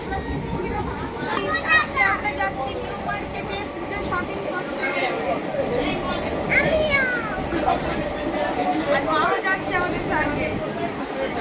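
Steady rumble and rattle of a moving suburban train carriage travelling from Diamond Harbour, with people and children chattering throughout.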